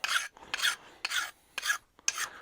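A hand file rasps along the edges of a metal part from a Wilton Bullet vise, chamfering and deburring it in five steady, evenly spaced strokes with short pauses between, close and clear with no talking.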